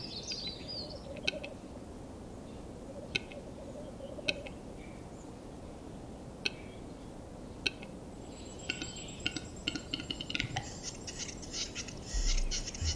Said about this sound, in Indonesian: Setelah menentukan dari mana asal bunyi burung, kucing itu siap untuk mengintai burung Heathercock.